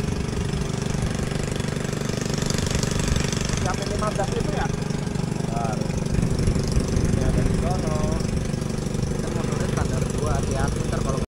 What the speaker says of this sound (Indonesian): naik perahu pakai motor